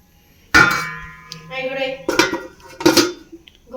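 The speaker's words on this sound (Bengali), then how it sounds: "খুন্তিটা বের করে নিই" Metal utensils clank and clatter against a pot as a spatula is pulled out of a curry with a thin, runny gravy, giving a few sharp ringing knocks close by, mixed with some background voice.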